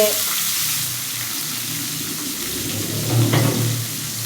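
Onions and chillies fry in oil in a wok, a soft steady sizzle with a slight clatter of stirring near the end, fairly quiet.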